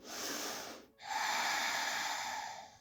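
A deep closing breath during a yoga flow, heard close and clearly as one airy stream, then a short break, then a longer steady breath that slowly fades, with no talking.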